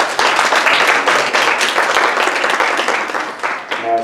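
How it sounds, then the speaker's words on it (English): Audience applause at an emergency preparedness presentation hosted by a hospital, a loud, dense burst of many hands clapping for about four seconds that thins out near the end as a voice begins. "Can we give them a round of applause?"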